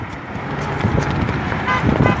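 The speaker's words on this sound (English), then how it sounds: "Hey, thanks for the honks, Laura." Car horns toot from passing traffic at a roadside President's Day flag wave in Fort Worth, Texas, a couple of short honks rising over steady road noise.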